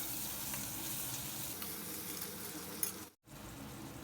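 Onions and tomato pieces frying in a pot give off a steady, quiet sizzle throughout, with a brief gap near the end.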